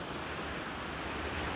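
Azov Sea waves washing onto a sandy beach on the southern shore near Golubitskaya after a strong storm, a steady broadband surf roar with wind noise, continuous and fairly close, no voices.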